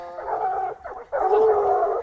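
Hunting dog on a safari hunt, giving loud close howling, whining cries in two long drawn-out bursts separated by a short break.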